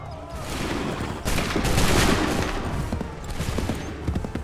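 A loud, dense musket volley rips out in Assassin's Creed III, many shots crackling together in a sustained barrage that swells and then tapers into scattered reports.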